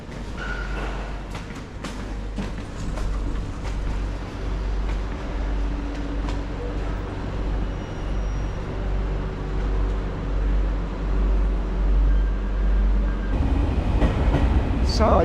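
A train rolls along the rails with a steady low rumble and occasional clicks and squeaks, heard from inside over about fifteen seconds.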